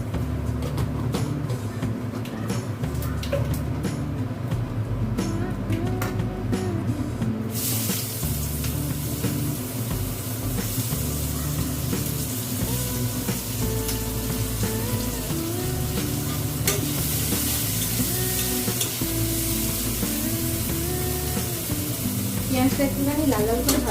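Black cumin seeds are tempered in hot oil for a home-cooked fish curry. A steady hissing sizzle bursts in about a third of the way through and continues under a faint tonal background.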